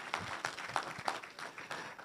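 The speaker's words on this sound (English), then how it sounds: "So clap for yourselves for benefiting more than the presenters." Audience at a business forum applauding, a modest patter of claps with a few sharper individual ones, fairly quiet and evenly spread, with no talking over it.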